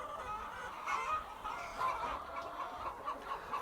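Chickens clucking on open pasture at a steady, moderate distance, a continuous murmur of soft clucks with slight swells over a faint outdoor background.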